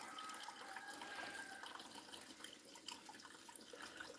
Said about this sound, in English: Listening to the sound of the water.